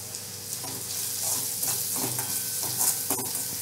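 Spices with ginger-garlic paste being stirred and fried in a pan for vada pav: a steady, close hiss of sizzling oil with soft scraping stir strokes throughout.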